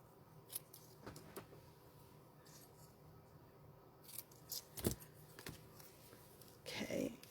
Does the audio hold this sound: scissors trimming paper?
yes